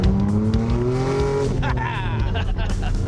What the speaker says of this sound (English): normally I don't like the sound of a V6, but when you put 2 turbos on the side of it